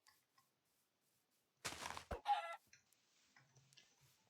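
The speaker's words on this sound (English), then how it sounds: "No, it's just a chicken." A chicken in the Minecraft video game gives a short burst of clucks close by, with a few soft game ticks and thuds scattered around it in otherwise quiet surroundings.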